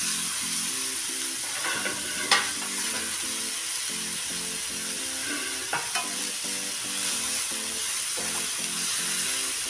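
Momo filling is stirred and turned in a sizzling frying pan, with repeated scraping strokes and a few sharper clicks over a constant close fry, and soft tonal music plays underneath.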